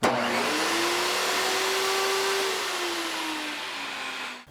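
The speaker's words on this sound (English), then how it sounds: "I want to step it up by trying the 12 amp vacuum and the table saw at the same time." A 12 amp vacuum and a table saw run together in a loud, steady roar, the saw's motor whine rising and falling in pitch, both ending abruptly.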